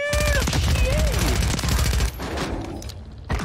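Rapid gunfire from a Warzone 3 video game match in a 1 vs 3 solo fight, bursts of shots crackling close and loud amid game effect tones, then tapering into quieter rumble before a final sharp burst.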